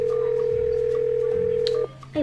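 An outgoing phone call goes unanswered, a single steady ringback tone holding for nearly two seconds before stopping, moderately loud over faint low background noise.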